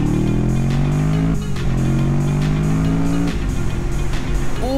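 Kawasaki Vulcan S motorcycle engine revving hard under acceleration, a loud, close, steady roar whose pitch climbs through each gear, with a brief dip at a shift partway through before rising again.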